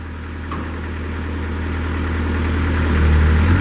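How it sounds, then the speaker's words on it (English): The Kubota engine of a 2007 Moffett M55 truck-mounted forklift runs close by with a steady low rumble that grows slightly louder, with no talk over it. "Here's your Kubota coming to life."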